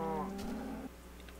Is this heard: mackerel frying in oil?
no